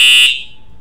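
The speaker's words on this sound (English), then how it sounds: "this is your fire alarm" A fire alarm from the Minecraft Simple Sirens, Alarms & Bells mod sounds a loud, steady electronic tone for about a quarter second, then cuts off and leaves a faint, quiet tail.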